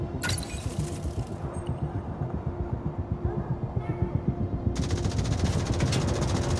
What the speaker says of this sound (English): You must learn to anticipate the time windows when the turret stops firing.